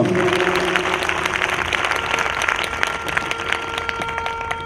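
A church congregation claps together in sustained, dense applause that holds steady for several seconds.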